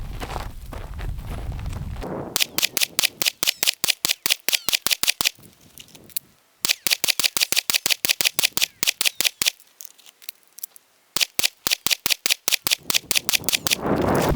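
Pistol fire from three magazines on a handgun fitted with a weapon light, rapid loud shots in quick bursts separated by short pauses for magazine changes.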